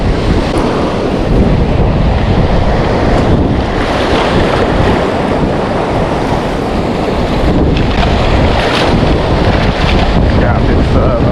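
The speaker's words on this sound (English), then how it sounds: "It's nice the waves are rolling." Steady roar of waves rolling and breaking on shore, with heavy wind buffeting the microphone throughout; no voices.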